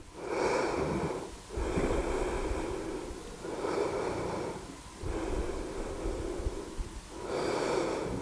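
Slow, deep breaths while a yoga pose is held during a vinyasa hip-opening session, long airy inhales and exhales in a steady cycle of roughly three seconds each, close and clear with no talking.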